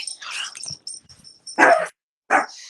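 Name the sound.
dog barking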